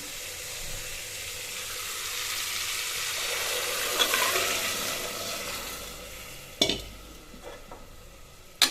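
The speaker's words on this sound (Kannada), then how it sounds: "ಮಸಾಲೆ ಎಲ್ಲ ಮಿಕ್ಸ್ ಮಾಡಿ ಹಾಕ್ತಾ ಇದ್ದೀನಿ" Spice masala stirred into a cooking pan for sprouted-bean sambar, a steady soft scraping and sizzle running throughout, with a few sharper clinks of the spoon near the end.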